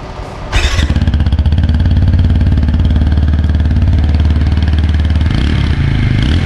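A 2020 BS6 TVS Apache RTR 160 4V motorcycle starts with a sharp crank, then settles into a loud, close, steadily thumping exhaust idle that runs without a break.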